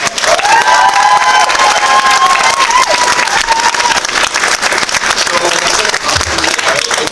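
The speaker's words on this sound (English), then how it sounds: "Everybody was amazing, so I want to give a big round of applause to everybody" Crowd at a comic-con cosplay championship claps and cheers loudly and steadily, with whoops and shouts rising over the dense applause.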